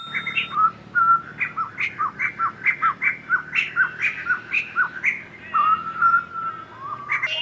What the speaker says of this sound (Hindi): बर्ड की आवाजें देख रहे हैं,